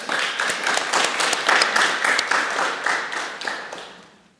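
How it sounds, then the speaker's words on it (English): An audience at the 2023 Holberg Masterclass academic event breaks into loud, dense applause, many hands clapping steadily for a few seconds before the sound tapers off toward the end. "I think we should give all our participants a round of applause now."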